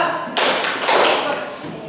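A vocational-school class claps a counted two-beat pattern, two loud bursts of many hands striking together in unison, close and echoing in the classroom.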